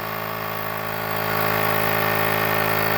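A portable cordless battery air compressor from AliExpress running, a loud steady mechanical hum with a rapid pulsing motor tone, close and continuous without speech.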